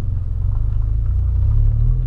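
A repaired Volkswagen Polo engine runs close by, a deep low rumbling idle with a steady throbbing pulse, loud and continuous for about two seconds with no voices.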